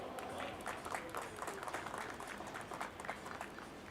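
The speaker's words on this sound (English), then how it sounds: "Just give him a big round of applause." Indoor audience claps steadily at a Nissan GT-R launch event in India, a dense patter of many hands continuing evenly for several seconds at moderate distance.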